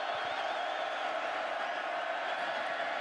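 Large football stadium crowd at Jack Trice Stadium, Iowa State, roaring steadily on a third down against Texas, a dense continuous wall of noise with whoops rising over it.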